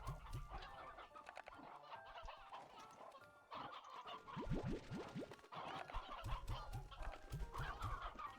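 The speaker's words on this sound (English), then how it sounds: "we're just gonna be bombarded with chickens for the next few minutes" Chickens called roostros cluck in Slime Rancher 2, a steady stream of overlapping fowl clucks and squawks, some near and some farther off, with a brief burst of rapid rising calls in the middle and no talking.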